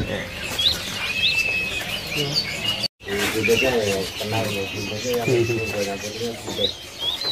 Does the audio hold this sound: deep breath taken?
no